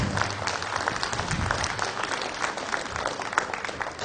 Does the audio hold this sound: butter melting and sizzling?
no